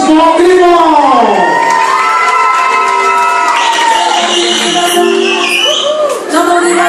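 Loud crowd cheering and whooping at a Miss Prestige Réunion beauty pageant, a dense continuous roar of voices and shouts lasting the whole stretch, with music-like tones layered underneath.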